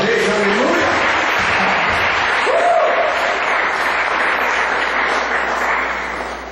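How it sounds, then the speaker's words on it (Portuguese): Sustained applause from a church congregation during a sermon, dense and steady for several seconds before easing slightly at the end, with a brief voice rising over it early on. "Aplauda esse Deus mais uma vez"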